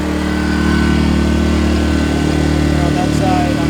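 A gas generator engine runs loud and close with a constant droning hum, its exhaust vented beside a fan, holding steady throughout.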